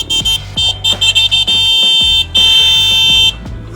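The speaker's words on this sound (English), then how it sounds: "this has got quite a honk. Listen to this." A loud car horn honks in short repeated bursts, then in two long sustained blasts, close by, in Manila traffic.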